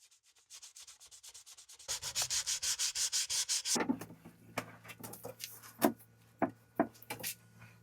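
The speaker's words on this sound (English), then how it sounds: "the most important part of any finishing job is sanding. Lots and lots of sanding." Rhythmic back-and-forth sanding strokes on a wooden guitar body, steady and close, then breaking into scattered scrapes and knocks toward the end.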